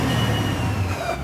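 The diesel engine swapped into a Camaro called Coalmaro revs briefly and loudly up close, a dense rough roar lasting about a second.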